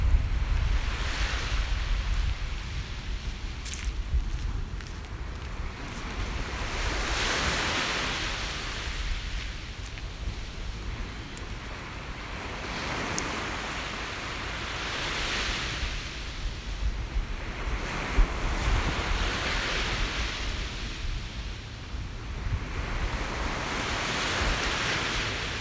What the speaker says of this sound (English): Soak in those sounds of the waves and the beautiful colors.